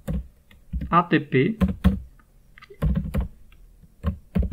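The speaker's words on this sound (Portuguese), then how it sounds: "Digitar o comando sudo t, que é um comando que vai mostrar na tela, mas ao mesmo tempo vai escrever o arquivo" Commands are typed on a computer keyboard while installing PostgreSQL on Ubuntu Linux; bursts of close, quick key clicks are mixed with a person speaking.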